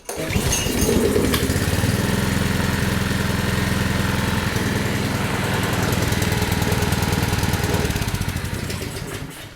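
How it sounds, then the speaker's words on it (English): A Generac generator with a Briggs & Stratton 4000XL engine cranks and starts, then runs at a loud, steady, rough mechanical drone for several seconds before beginning to wind down. "Okay, seems to run."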